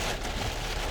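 Heavy rain pours down outside a 2006 Lincoln Town Car Signature, a dense, steady roar of drops drumming on the surfaces, loud and continuous with no voices.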